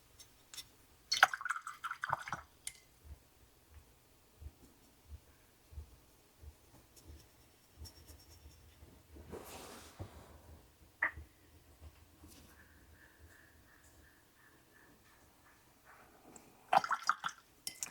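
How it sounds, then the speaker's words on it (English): Small splats of water land on a watercolor balloon painting, in a few soft, separate bursts spaced through a quiet stretch with light brush and paper rustles between them. "And splat a little water"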